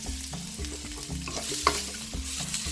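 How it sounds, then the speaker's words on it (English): Mixed vegetables and prawns for fried rice are stirred in a hot pan, a steady sizzle of frying under repeated scraping strokes of the utensil, close and continuous. "So I'm just mixing it all well together and letting that salt into the vegetables"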